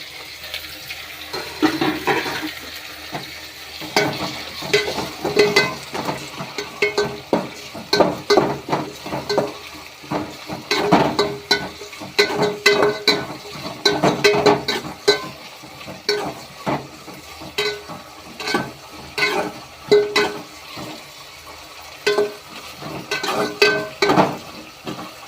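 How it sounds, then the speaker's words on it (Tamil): Tomatoes tipped onto fried onions in a pan, a loud wet hiss followed by repeated bursts of scraping and stirring, uneven in rhythm and close throughout. "வெங்காயம் நல்லா பொரிஞ்சிச்சு, தக்காளி போட்டுக்கலாம்."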